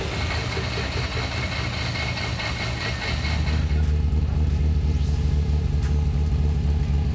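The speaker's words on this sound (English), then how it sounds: "The car started first go" A Nissan GT-R's built RB26 engine turns over and catches on its first start, then settles into a steady, loud idling rumble close by.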